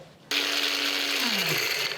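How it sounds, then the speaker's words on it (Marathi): A mixer grinder starts abruptly and runs at a loud, steady whine, grinding roasted fenugreek seeds, cloves and black pepper, with its motor pitch dropping slightly partway through. "तर सगळ्यात आधी खडे मसाले जे आपण भाजून घेतलेत हे मिक्सरला फिरवूयात."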